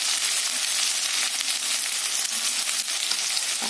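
Ginger, garlic, green chilli and onion fry in a pan with a dense, continuous sizzle, close and loud throughout, with faint stirring scrapes.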